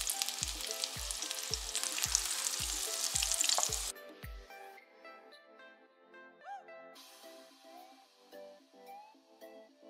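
Vegetable pakora batter frying in hot oil gives a loud, dense sizzle under a steady kick-drum beat for about four seconds, then cuts away to music alone.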